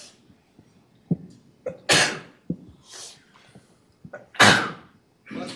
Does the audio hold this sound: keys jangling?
no